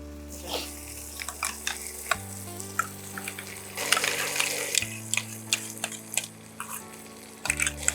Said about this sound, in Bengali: এবার আমরা ওই কাজুর পেস্টটা দেব।